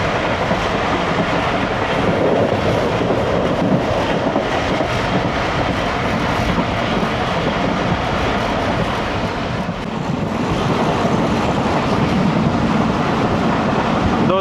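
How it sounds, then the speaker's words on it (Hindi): The Jaffar Express of Pakistan Railways runs on the track past the Changa Manga forest. Loud continuous rumble and rhythmic clickety-clack from the rail wagons carry on steadily throughout with no talk. "ट्रेन भी रवां दवा है"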